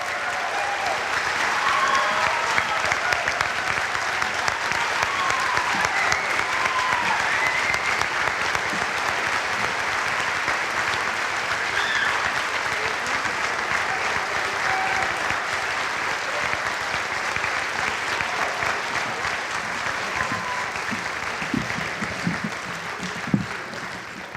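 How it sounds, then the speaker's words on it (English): The audience at a 2017 high school May band concert gives a long, loud round of applause. The clapping is sustained and even, with scattered cheers, and continues for over twenty seconds before easing slightly. "Let's give these folks a huge, huge round of applause."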